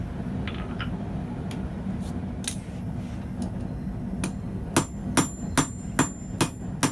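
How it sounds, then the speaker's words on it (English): Hot steel is hammered in a swage while forging a ball-end finial, with quiet background hiss early and then a steady series of sharp, ringing hammer strikes in the final seconds. "continuously rotate and hammer."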